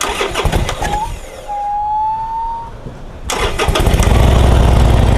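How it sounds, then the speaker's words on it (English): A brand-new Harley-Davidson Sportster motorcycle engine cranks, then catches after a brief lull and settles into a loud, steady idle close by, with no one speaking. "So we're gonna start this one up."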